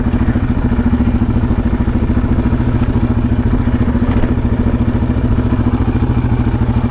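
A Yamaha Raptor 700R quad's engine runs steadily and close during a trail ride, a loud, even chugging pulse with rough low rumble and occasional clatter as the rider works the clutch on a small drop.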